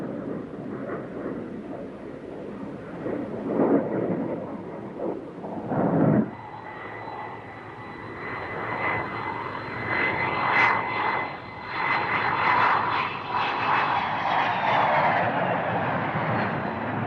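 An F-14 Tomcat jet flies by on its first flight, a broad roar that rises and swells with a thin whine above it. It sounds moderately distant, and no voices are heard.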